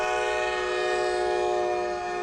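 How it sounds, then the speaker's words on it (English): The CPKC holiday train sounds a loud, steady multi-tone horn chord as it passes Tower 26 in the early morning, held continuously throughout with only a faint rail rumble beneath. "we see the CPKC holiday train passing by Tower 26."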